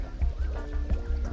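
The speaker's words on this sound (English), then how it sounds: "A faucet. No sink is complete without one of these. Water." Water runs from a kitchen sink faucet in an Adventure Time video game, a soft continuous trickle and splash heard close, with light game music tones underneath.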